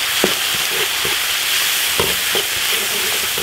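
Meat stir-fried in a wok with chili paste, ginger, garlic and Sichuan pepper, a loud steady sizzle with repeated scraping and tossing strokes close up.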